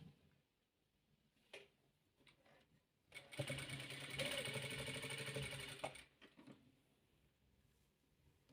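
Sewing machine stitching cut patchwork squares into a pineapple-pattern quilt block, a steady mechanical whirr running about three seconds at close range, bracketed by brief handling clicks and quiet moments before and after.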